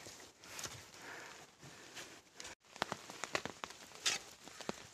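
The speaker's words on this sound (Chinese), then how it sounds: "下大雨了，挖不到了" Heavy rain falls in a bamboo forest, steady hiss for the first half, then scattered louder drops and taps striking close by after a brief pause, with no voices.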